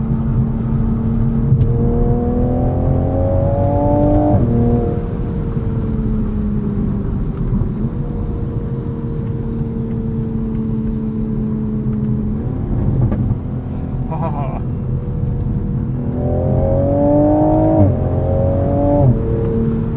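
A grey 2022 Toyota Supra Premium pulls hard with a loud, rising engine note, broken by quick upshifts that drop the pitch before it climbs again.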